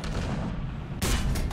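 A tank cannon fires in the War Thunder video game: a sharp, loud blast bursts in about a second into the clip over a steady rumbling battle background, with no talk.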